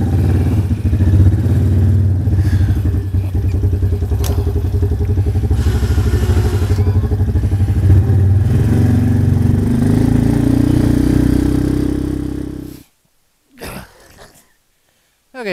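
An ATV with a plow pushes through about a foot of snow, its engine a loud, steady, rough drone for roughly twelve seconds before cutting off abruptly, followed by a few short thumps.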